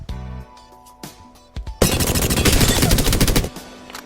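An automatic weapon in the Apex Legends video game starts with a few separate shots and then fires a sustained loud burst of rapid gunfire lasting about two seconds.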